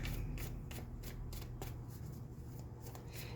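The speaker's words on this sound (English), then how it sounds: "So I'm going to pull one more card just to tie this all up." Tarot cards being shuffled by hand, with a steady, close riffle of papery flicks and rhythmic soft slaps against a constant low background hum.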